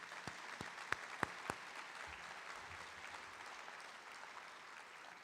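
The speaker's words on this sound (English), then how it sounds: "Let's give them a round of applause." Audience at a high school academic achievement awards ceremony applauds a jazz combo: a few sharp, distinct claps open, then give way to a soft, steady wash of clapping heard from a distance.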